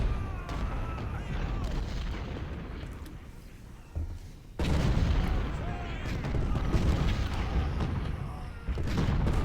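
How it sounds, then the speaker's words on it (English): Cannon fire from massed artillery in the Civil War strategy game Ultimate General: Civil War rumbles as repeated low booms over a steady roar of battle, moderately loud with a sharp surge midway. "Just let my artillery do its thing."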